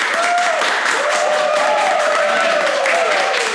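An audience claps for a metal band at a live show, a sustained wash of applause with some crowd noise, while a voice talks over it.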